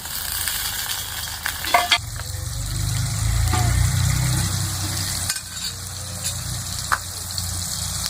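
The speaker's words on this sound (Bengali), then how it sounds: "ওই তেলের মধ্যে আমি কেটে রাখা পেঁয়াজগুলো দিয়ে দিচ্ছি" Chopped onions and tomatoes sizzle steadily in oil in a pan, with occasional scraping stir sounds and a low rumbling hum underneath.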